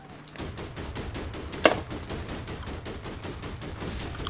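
Automatic gunfire in APB Reloaded, a rapid steady stream of shots throughout with one louder sharp crack partway, fairly close and with no talk over it.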